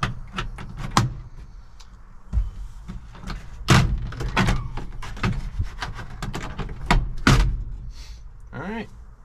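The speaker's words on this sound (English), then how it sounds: "there's our door panel off" Interior door panel being pried and popped off a 1981 Dodge D150 pickup truck, with a series of sharp plastic clip snaps and knocks, close up, mixed with a person talking.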